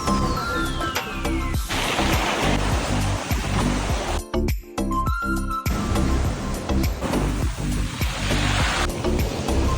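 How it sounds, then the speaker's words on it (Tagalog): Ocean waves surge and crash continuously at Butas Butas Beach in Mauban, Quezon, a loud, broad rushing wash with brief lulls between breakers, no voices. "Tanging hampas ng alon ang aming naririnig."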